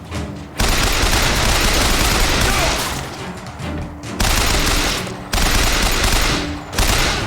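Loud, dense gunfire from the video game BioShock Infinite rattles in long continuous bursts, broken by two brief gaps before each volley resumes.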